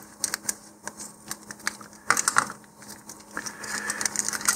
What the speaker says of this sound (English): We'll go ahead and cut this open.